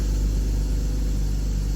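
A BMW E46 323ci engine idling steadily inside a closed garage, a continuous low rumble close to the car with no voices over it.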